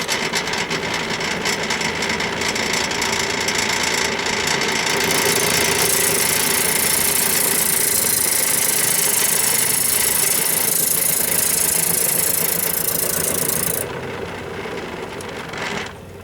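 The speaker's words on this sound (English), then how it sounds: "using the power switch to turn the lathe on with my safety glasses on" A wood lathe hums steadily while turning a wooden baseball bat blank, with a brighter whirring cut layered on for several seconds before easing off near the end; close, even and continuous with no talk.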